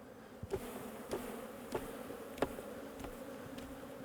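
Honey bees are shaken off a hive frame into a super during a colony split, leaving a soft, steady buzzing hum punctuated by several faint, regular knocks, with no voices.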